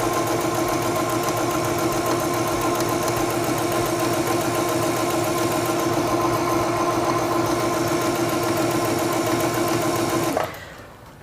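A sewing machine stitching fabric with a straight stitch, a steady fast mechanical whir and hum running continuously for about ten seconds before stopping abruptly, close and loud with no talking.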